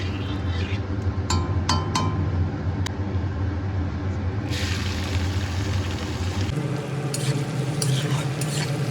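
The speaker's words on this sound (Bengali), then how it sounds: "পেঁয়াজ কুচি ভালোভাবে নেড়ে চেড়ে ভেজে একটু নরম করে নেব" Chopped onion frying with ginger-garlic paste and whole spices for a fish curry, a continuous sizzle broken by spoon-on-pan clinks and stirring scrapes, with a low hum underneath.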